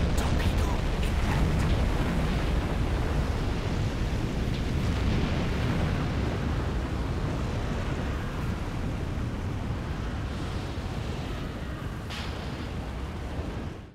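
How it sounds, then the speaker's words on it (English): A ship explodes under submarine torpedo attack in the Silent Hunter 5 naval war game, Battle of the Atlantic, with a sustained roaring blast, rumbling debris and further booms, loud and slowly fading, with a sharp crack near the end. "Boom goes the ship, still multiple explosions going on"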